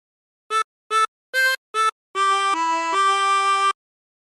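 A harmonica plays a song phrase: four short separate blown notes, then a longer run of three sustained connected notes, clear and close with no talking.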